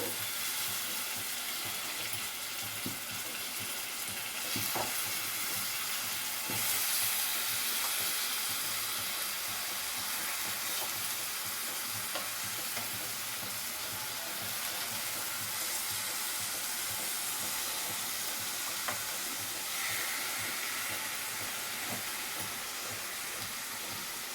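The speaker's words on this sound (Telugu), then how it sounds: "ఇప్పుడు ఈ ముక్కల్ని ఫ్రై అయిన ఆనియన్లో వేసేసుకోవాలి" Fish pieces marinated in salt, chili, turmeric and lemon juice frying in fried onions for a raw-mango fish curry, a long, steady broadband sizzle with scattered soft ticks and scrapes throughout.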